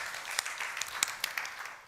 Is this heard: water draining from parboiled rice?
no